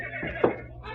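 Horse whinnying inside a stall in an animal tent, one loud rising neigh peaking near mid-clip over a steady low hum, close and alone without talk.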